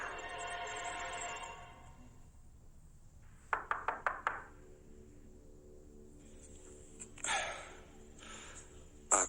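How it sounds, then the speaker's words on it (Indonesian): Knocking on a door, used as a horror story sound effect: a quick run of about five sharp raps midway, set against a quiet, hushed background with some later rustling and no talking. "ada suara ketukan dari arah pintu itu"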